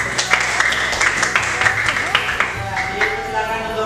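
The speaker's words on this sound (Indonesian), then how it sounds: "Beri tepuk tangan." Classroom applause from a group of students after a presentation, a scattered, uneven clapping with speech-like voices mixed in over about four seconds.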